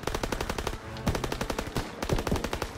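Rapid bursts of machine gun fire in Call of Duty WWII, loud and continuous with brief pauses between volleys.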